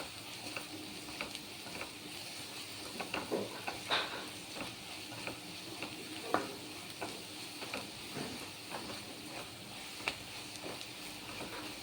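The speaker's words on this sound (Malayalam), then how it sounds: "കുറച്ച് മല്ലിപ്പൊടി, മഞ്ഞൾപ്പൊടി, പിന്നെ ഗരം മസാല ഇത് ചേർത്ത് ഇളക്കുക" Chicken cutlet mixture being stirred with coriander powder, turmeric and garam masala in a hot pan, giving a steady close sizzle with soft scraping stirs throughout.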